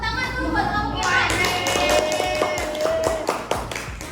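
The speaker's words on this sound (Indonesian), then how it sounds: "tepuk tangan dulu buat kelompok Ilham" A group of schoolchildren in a classroom claps for a classmate's group. The clapping is quick and scattered, with chatter and young voices mixed in.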